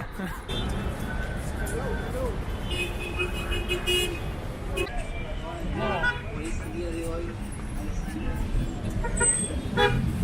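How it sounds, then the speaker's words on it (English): Car horns toot repeatedly in busy street traffic in Lima, short honks scattered over engine noise and a murmur of people talking nearby. "Feels so cute with everybody honking at me."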